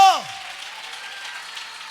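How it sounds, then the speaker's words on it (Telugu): A church congregation claps loudly during a sermon, a dense, steady wash of applause that carries on for the whole stretch after a brief tonal sound at the start. "చప్పట్లు కొట్టండి గట్టిగా గట్టిగా"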